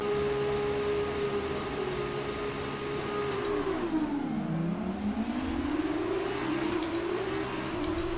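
Formula 2 car engine in F1 2019 at a race start, a loud close steady rev held high, then dropping and sweeping back up as the car launches, with no voices.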